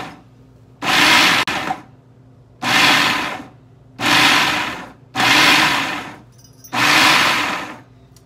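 Electric food chopper chopping onion, five short pulsed whirring bursts of about a second each separated by brief pauses, loud and close with no talking.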